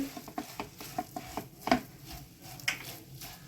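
Cardamom powder is stirred into coconut filling in a pan over a very low flame for coconut vadi, with soft irregular scraping and light taps of a spoon against the pan, close and fairly quiet.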